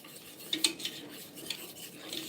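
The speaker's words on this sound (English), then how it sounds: "So you really have to sit here and stir and watch it." A utensil stirs flour into turkey gravy in a pot, making soft scraping and a few light clinks against the metal, a thick steady swish under a quiet room background.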